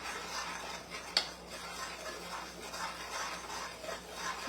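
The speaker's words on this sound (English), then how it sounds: "So I'm going to stir it one time since it's just starting to boil." Sugar syrup for candied walnuts just coming to a boil in a pot, stirred once with soft scraping and a single sharp clink of utensil against the pot, faint and close under a steady background hiss.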